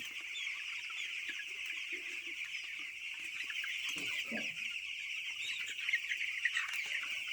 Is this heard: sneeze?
no